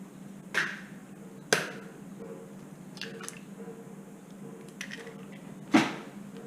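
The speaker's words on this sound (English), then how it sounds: "Let's crack the eggs." Eggs cracked into sugar while making choreg: a few sharp, separate taps and wet cracks spaced seconds apart, close and fairly quiet, over a low steady hum.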